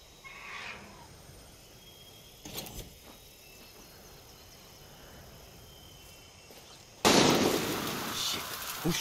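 Distant gunfire in Far Cry 6 pops faintly in scattered bursts over a quiet outdoor bed of insect chirping, then a louder, denser crackling burst of shots breaks in near the end.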